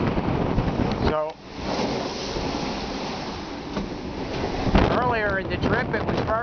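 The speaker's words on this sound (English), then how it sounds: "This increased wind here just piped up this morning, blowing about 25 knots." A strong wind of about 25 knots rushes past a solo sailboat beating to windward toward the Galapagos, a constant loud gusty roar with water noise, and someone talks over it.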